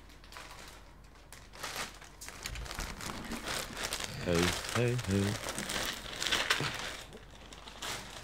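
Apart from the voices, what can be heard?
plastic bag from Tunatan rest stop crinkling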